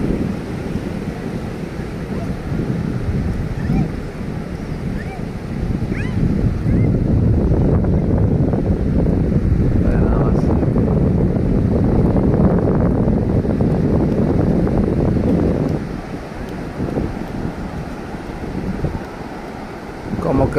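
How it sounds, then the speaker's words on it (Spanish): Ocean surf rolls continuously onto the sand at Playa El Revolcadero, a broad, loud wash of breaking waves with gusty wind buffeting the microphone and no one talking. "Pero la ola de repente llega hasta acá."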